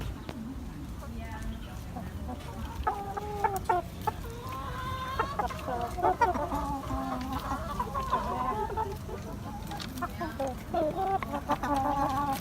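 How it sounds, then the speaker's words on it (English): Roosters and ducks on a family farm cluck and call repeatedly at mid distance over a constant outdoor rumble, with overlapping bird voices scattered throughout. "Check out these roosters and ducks and stuff."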